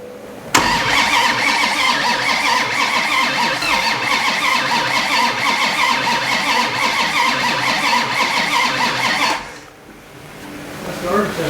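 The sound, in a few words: 1967 Dodge Coronet engine cranking and starting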